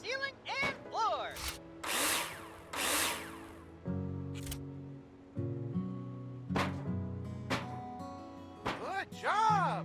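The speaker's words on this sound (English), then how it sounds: "Now place them in the hologram and screw them in with a drill" In the Builder Simulator construction game, a power drill drives screws into wall profiles in repeated whirring bursts of rising and falling pitch, separated by short clunks and pauses.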